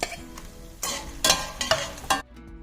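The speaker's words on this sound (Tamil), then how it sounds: "சுண்டக்காய் வத்தலை வந்து நம்ம போட்டு வறுத்து எடுத்துக்கலாம்." Dried turkey berries (sundakkai vathal) frying in sesame oil, a close, steady sizzle broken by several louder bursts of stirring and clatter before the pan suddenly quiets near the end.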